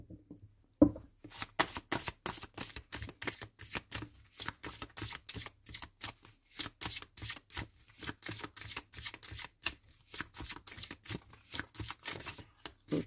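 Tarot cards shuffled in quick repeated riffles and cuts, a dense run of crisp papery flicks with brief pauses, close and fairly quiet, no talking.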